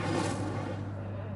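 Incendio fire spell cast in Hogwarts Legacy, a loud, rushing burst of flame that roars at once and holds steady for over a second, fading only slightly toward the end.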